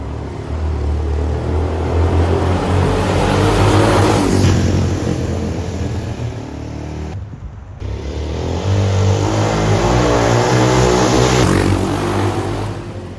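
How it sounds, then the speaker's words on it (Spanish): A loud Suzuki DR 600 motorcycle, restored after 18 years abandoned, rumbles and revs steadily through its exhaust, with a high whine, dropping briefly before roaring again. "no sé si me escucharán con el ruido que hace el escape este"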